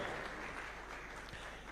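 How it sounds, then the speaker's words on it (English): An audience at a Taxpayers Day celebration at State House applauds honorees, a brief, fairly faint wash of clapping heard from a distance. "we can give them a clap as they're coming"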